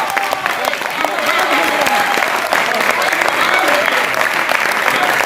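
Audience applause at an Urdu-Hindi poetry recital (mushaira) with Waseem Barelvi, a dense, steady wash of clapping throughout with a few voices mixed in.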